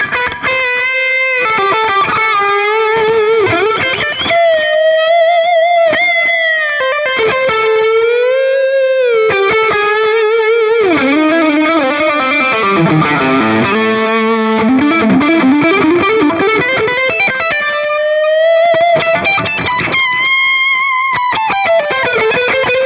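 Distorted electric guitar playing a melodic line with sustained bends, each phrase trailing into repeating Echoplex-style tape delay echoes and a roomy reverb tail, loud and continuous.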